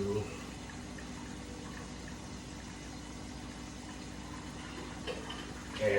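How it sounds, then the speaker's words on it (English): Hot water from a pot of cooked Hamburger Helper noodles pours off steadily into a sink, a continuous close splashing rush that holds even for several seconds under faint background hum. "Draining the water out from the noodles."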